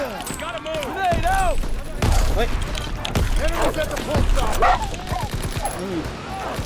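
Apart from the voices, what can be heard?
gunfire in a video game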